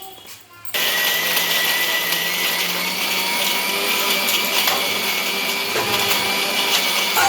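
A kitchen mixie grinds ginger chutney for Telugu-style allam pachadi, starting abruptly after a brief quiet moment and then running as a loud, steady whirring motor drone until the end.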